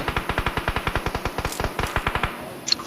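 Single-tap gunfire in the mobile shooter BGMI comes as a rapid string of about twenty sharp, evenly spaced shots, loud and close with no talk over it.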